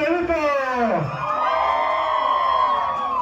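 A crowd at a Christmas string-group contest shouts and whoops loudly, voices rising in a swooping cheer before settling into a sustained roar of mixed yells.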